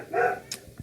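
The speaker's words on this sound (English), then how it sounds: "you hear my dog barking" A dog gives a single short, sharp bark at mid distance, followed by a brief softer yip, in an otherwise quiet room.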